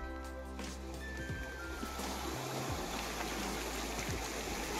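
Sea water and waves at a quiet beach in Mumbai near sunset, a soft, continuous wash of surf with gentle swells and faint background tones.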